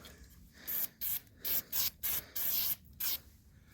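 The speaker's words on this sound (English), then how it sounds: "I got a little bit of lubricant, this silicone. I'm going to spray it around" Short bursts of silicone lubricant sprayed from an aerosol can around a gas tank seal, six or seven hissing blasts of varying length in quick succession, close and clear with no talking.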